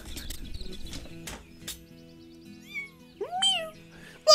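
A cat meows after stepping out of a cat carrier, a rising drawn-out call standing out near the end, with voices talking earlier in the scene.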